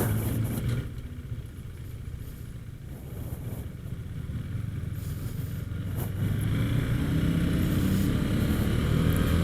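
A Husqvarna Vitpilen 401 motorcycle, rated at 42 horsepower, is ridden, giving a continuous engine drone mixed with wind rush that builds slightly as it accelerates, steady and close throughout.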